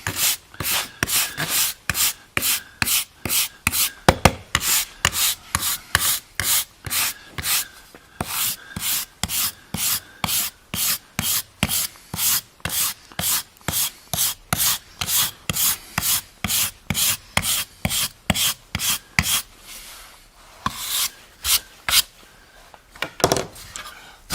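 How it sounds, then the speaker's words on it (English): A wire brush scrubs hard across charred shou sugi ban wood in steady, rhythmic strokes, each a loud raspy scrape, continuing closely and evenly with brief pauses near the end. "we're going to take our wire brush now and just brush it good and hard and bring out that grain, the color, and the texture"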